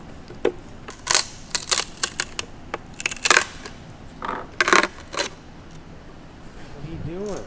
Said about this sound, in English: The rivets are spinning.